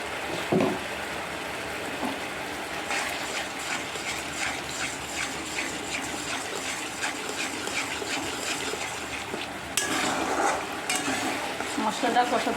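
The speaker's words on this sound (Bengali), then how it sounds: "মশলাটা কষাতে থাকি" Spice paste for a rohu fish curry is sautéed and stirred in a pan, giving a continuous close sizzle with rough scraping and clattering strokes that grow louder and busier near the end, no talking.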